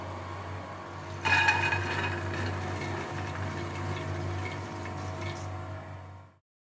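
Water is poured off soaked black chickpeas in a home kitchen, a steady splashing stream that starts abruptly and runs for several seconds before stopping.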